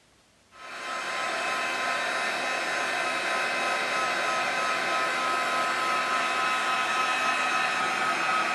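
A heat tool blasts steadily to melt white embossing powder on a modern-style thank-you card, a loud continuous whooshing roar that kicks in after a brief quiet start and holds level with no talking.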